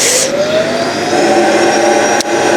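Household vacuum cleaner running loud and close with a steady high whine and airy roar, the pitch drifting slightly, one brief dip near the end, no voices.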